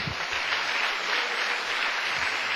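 Congregation applauding during a pastors' meeting at a church, a steady, dense wash of clapping filling the whole stretch without pause, fairly loud and even.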